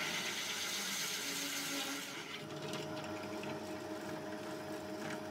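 A drill cuts through a plastic plate during a build of a solar generator from RS Pro parts, a continuous dense whirring grind that stays fairly steady and softens slightly partway through.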